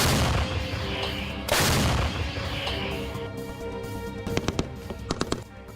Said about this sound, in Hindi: गोलीबारी करते दिख रहे हैं।